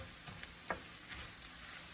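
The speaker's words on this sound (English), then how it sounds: "We're going to let it fry on up here." Corn and onion fry in a pan with a soft, quiet sizzle, with a few faint stirring scrapes and one brief clink.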